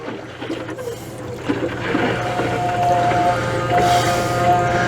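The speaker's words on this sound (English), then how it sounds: "the customer is going to go turn the tank flush on" Water from a newly turned-on tank flush runs past a repaired plumbing fitting. A steady rushing trickle swells slightly louder partway through and keeps flowing without a break.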